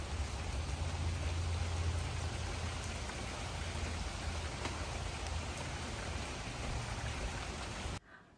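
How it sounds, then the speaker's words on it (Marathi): Continuous rain on a cloudy day makes a steady, even hiss of falling water with no pauses, fairly faint, and it cuts off abruptly at the very end. "हे बघा कंटिन्यू पाऊस चालू आहे"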